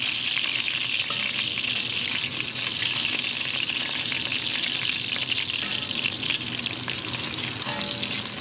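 Beef ribs fry in hot, popping grease in a pan, giving a dense, continuous sizzle with steady crackle, close and fairly loud throughout, with no voices.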